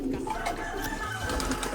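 Grizzle pigeon, a seven-year-old bird, cooing softly in a few low murmuring phrases close by against steady background noise.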